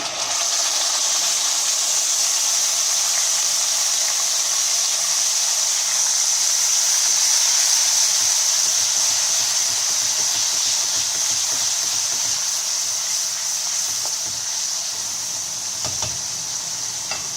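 Tomato puree hits hot oil with a spoonful of spice and sizzles loudly, a steady bright hiss with faint stirring scrapes, close by and continuous for the whole stretch, with no talking.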